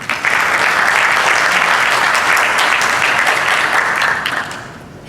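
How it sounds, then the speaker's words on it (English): Loud, dense applause from an audience greets a speaker at an afternoon event, sustained for several seconds before tapering off at the end. "Let's give him a round of applause."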